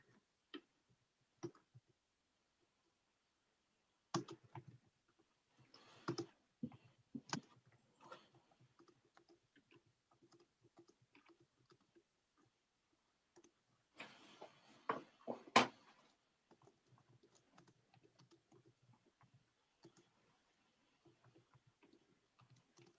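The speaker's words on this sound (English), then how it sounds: "Commodore Valesky, I am, as we speak, typing a question to you." Keys on a computer keyboard being typed, coming in scattered faint clicks and short bursts with pauses between them, quiet and close with no talking.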